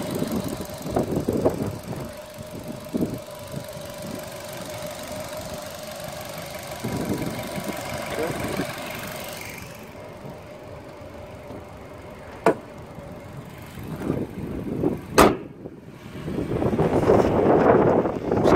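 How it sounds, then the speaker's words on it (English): A Nissan Qashqai+2 1.6 engine idles steadily with a low rumble and some knocking, wind buffeting the microphone and occasional clicks and thumps nearby. "Engine's running. As can be heard."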